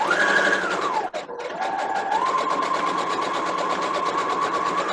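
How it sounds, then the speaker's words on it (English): Sewing machine stitching fabric for a doll, a close continuous motor whirr that pauses briefly near the start and then runs steadily on. "I'm going to take the sound off so that you don't have to hear that sewing machine whirl for a minute"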